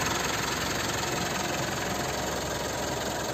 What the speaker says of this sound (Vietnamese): động cơ của chiếc này thì có vẻ là kêu to hơn một chút